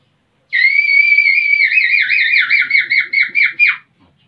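A shepherd's whistle of the kind used to steer a flock of sheep rings out loud and close, one long sustained note breaking into a quick warbling trill before stopping abruptly.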